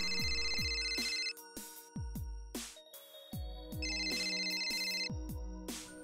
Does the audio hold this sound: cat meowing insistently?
no